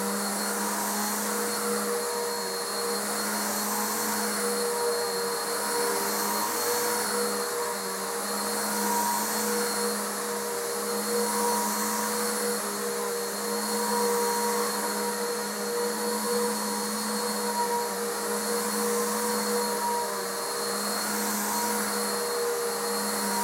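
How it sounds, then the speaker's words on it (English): A Bissell Power Force bagged vacuum cleaner runs steadily for the whole stretch, a loud, constant motor whine and airflow roar with a fixed pitch and no talking over it. "Next is the Bissell Power Force bagged"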